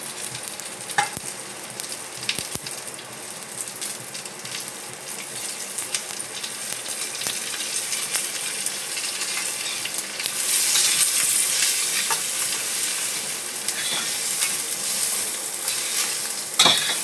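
Masala spices stirred into onions frying in a pan for Khandeshi pomfret masala, a continuous close sizzle with repeated scraping and metallic clinks of the spoon, brightening midway as the frying intensifies.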